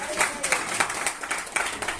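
Audience applause at a 50th wedding anniversary celebration: a short burst of scattered hand clapping from a modest crowd, fairly near and steady throughout, with no speech over it.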